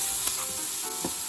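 Cashews, green chilli and curry leaves sautéing in a pan for a kara paniyaram tempering give a steady, close sizzle with faint stirring scrapes, heard alone without talk.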